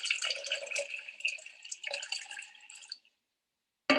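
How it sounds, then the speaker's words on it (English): Four cups of warm distilled water pour into a blender for a red cabbage acid-base experiment, a close, splashy trickling stream that stops abruptly, then a brief sharp knock. "add 4 cups of warm distilled water to our blender"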